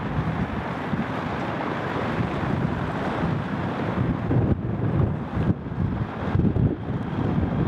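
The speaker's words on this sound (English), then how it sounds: "I took you guys to a rooftop with the idea that I was gonna talk to you guys, but it's really windy" Strong gusts buffet a microphone on a windy rooftop, a constant low roar with bursts and flutter that swell and fade, loud and close with no voice over it.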